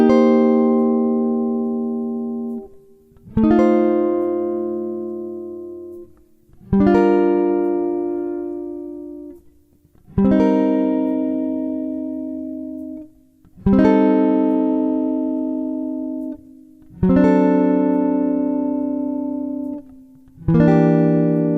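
A jazz guitar plays chords over a jazz standard, sounding as seven ringing chord strokes, each struck cleanly and left to decay with short gaps between, played alone with no talking.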